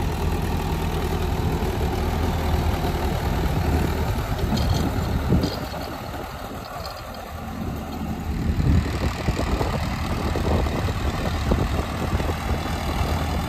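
An Indofarm 3055DI 2WD tractor engine runs steadily while pulling a rotavator through mud, a continuous low rumble with a brief dip in load partway through before it picks back up.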